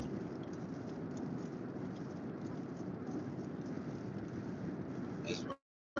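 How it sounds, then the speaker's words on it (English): Steady rain hisses in a continuous, even wash of noise, moderately close, before cutting off abruptly near the end. "It's raining"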